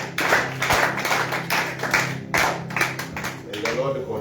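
A church congregation clapping together in praise of the preacher, rhythmic and fairly loud, with hand claps falling in a steady repeating pulse and a bit of background murmur.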